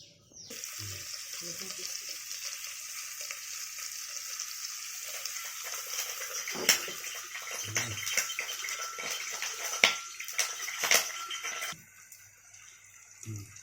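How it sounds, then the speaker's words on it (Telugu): Steady rushing stream of a litre of water pouring into a pot for ragi porridge for several seconds, with a few clunks and brief bumps before it stops. "లీటర్ వాటర్ పోసా దీంట్లో."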